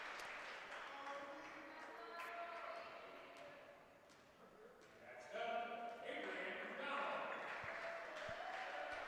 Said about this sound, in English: gets a nice hand from the crowd